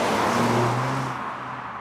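A 2018 Mazda6 Signature with its 2.5-liter turbo engine hums steadily from inside while driving, a loud, brief, continuous low drone that eases slightly toward the end.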